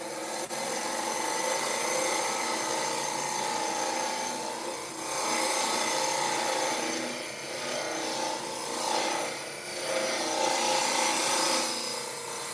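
A round carbide burr grinds quickly into cedar while shaping a cake stand part, giving a continuous coarse rasping and rubbing that stays loud and close throughout with brief dips in intensity.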